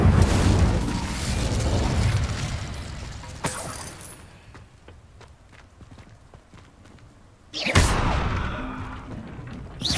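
Incendio fire spell in Hogwarts Legacy, heard as a loud fiery burst and roar that fades into quieter rhythmic clopping, then a sharp second blast erupts and roars again near the end.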